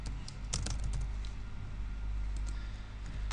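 Fingers tap quickly on a computer keyboard, a close, light patter of key clicks in short bursts over a low background hum.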